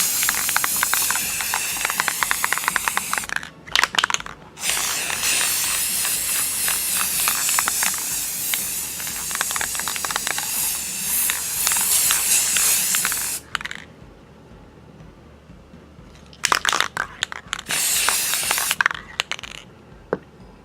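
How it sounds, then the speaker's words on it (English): Long hissing bursts from a spray paint can onto a picture frame over cardboard, a sustained spray of about ten seconds followed by a few shorter spurts after a pause. "And then start spraying."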